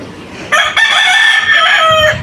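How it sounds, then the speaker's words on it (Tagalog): A rooster crows loudly and close among a flock of chickens on a home property, one long drawn-out crow with a brief break, over faint background clucking. "There are so many chickens."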